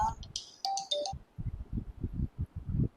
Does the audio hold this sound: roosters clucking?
no